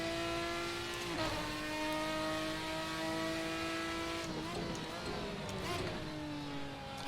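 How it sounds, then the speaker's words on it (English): Ferrari 550 GT1 engine in the GTR2 racing game, heard at Donington, droning steadily with several sharp throttle blips on downshifts, each a quick surge and pitch jump. Someone talks over it at times. "I don't know how aggressive you need to be on the blip when you're downshifting."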